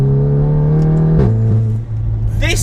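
A bagged MK7 Golf GTI with a swapped-in Golf R Mark 7 engine making about 380 horsepower revs up loud and close, the engine note climbing steadily, then dropping back before rising again.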